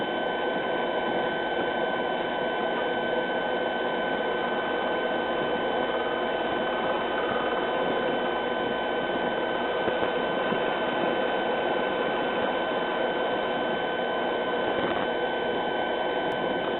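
A wood lathe turns a blank for a three-legged stool, giving a continuous, even whirring hum with a shearing cut hissing steadily underneath, close and uninterrupted throughout.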